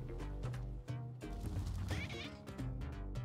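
A cat meows in the video game Spelunky 2, its short cries rising over steady, looping in-game music and effects for about three seconds.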